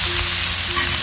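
Finely chopped onions sizzling in hot oil in a pan, a loud, steady, dense frying hiss that fills the whole moment without a break, heard close up and alone.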